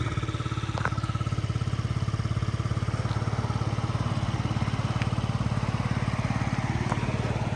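Yamaha Jog SA36 fuel-injected scooter running after a kick start, a steady close putter at idle with an even, rapid pulse and no revving.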